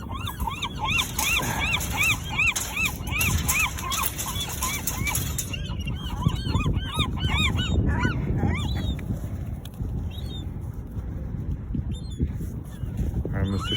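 A noisy crowd of gulls calls constantly, harsh repeated squawks and cries overlapping one another, loud and close, over a steady rumbling background.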